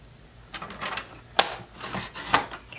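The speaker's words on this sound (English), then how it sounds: "So I'm going to bring in my trimmer, and we're going to line this up at 1 5/8." Paper trimmer slicing cardstock for a puzzle card, a few soft sliding swishes with two sharp clicks of the blade, close and quiet on a desk with no talk.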